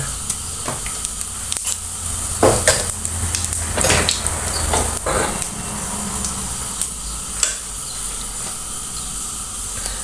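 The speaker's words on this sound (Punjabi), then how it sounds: "ਜੀਰਾ ਬਰਾਉਨ ਹੋ ਗਿਆ" Cumin seeds crackle in hot oil in a pan while preparing baingan bharta, a continuous sizzle and hiss punctuated by several sharp pops and spatter bursts, close and fairly loud, with no talking.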